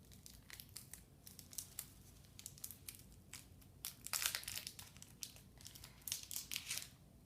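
Candy wrapping paper crinkles and rustles as it is unwrapped, in quick irregular bursts close to the listener that grow busier toward the end, with no voices.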